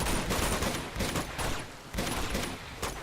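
Rapid bursts of gunfire from the video game Uncharted 2, several volleys in quick succession, loud and dense, with no talk over them.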